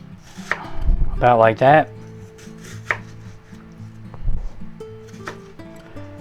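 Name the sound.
chopping vegetables for a sandwich with a knife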